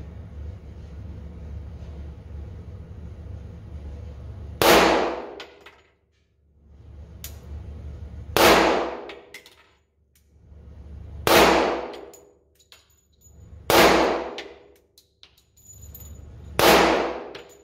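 FK BRNO pistol firing five sharp, loud shots spaced a few seconds apart, each a bright crack with a ringing decay, outdoors with a low rumbling background between shots.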